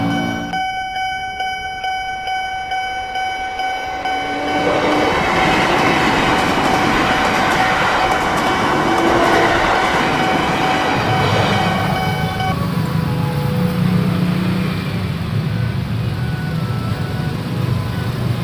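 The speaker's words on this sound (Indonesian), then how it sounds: "karena ada 1 kereta lagi yang bakal melintas" A train passing a railway crossing, preceded by ringing crossing-bell tones, then a loud, sustained rushing roar of rail cars going by for most of the stretch.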